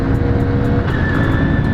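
A 1997 Honda CL50 Benly motorcycle pulling hard at full throttle downhill, its small engine buzzing close and loud with a steady rising drone that climbs in pitch partway through.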